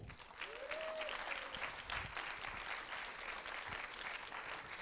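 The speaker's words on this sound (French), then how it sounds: "Merci, s'il vous plaît, une nouvelle fois d'applaudir celle qui va vous faire regarder tous les Pasolini pendant ce week-end" Moderate applause from a festival audience welcoming a guest onto the stage at a cinema masterclass. The clapping is steady and sustained, with a brief whistle near the start.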